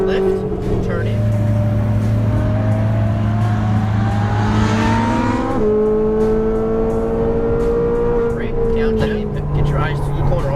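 Exotic sports car on a Las Vegas race track, engine note climbing steadily under throttle and then dropping as it upshifts before rising again, loud and continuous with a driving instructor talking over it.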